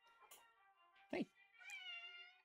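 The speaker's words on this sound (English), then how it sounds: "That's my cat meows." A pet cat meows close by: a short chirpy call, a brief thump, then a longer drawn-out meow in an otherwise quiet room.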